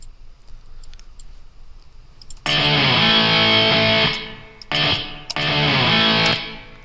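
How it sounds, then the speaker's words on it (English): Short percussive bursts treated with an Acoustica reverb plugin: one long ringing hit followed by two more separated by brief gaps, each with a short bright decay, loud and alone. "Let's use the Acoustica reverb for this."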